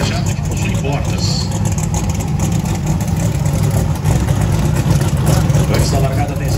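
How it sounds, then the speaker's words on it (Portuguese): Chevrolet Camaro biturbo and Chevrolet Opala turbo Pro Mod drag cars at Velopark, engines roaring loud and steady with a crowd and announcer-style talk over the top throughout. "Vamos com pista liberada aí para o Opala do Ivanizinho e para o Camaro do Roderjan"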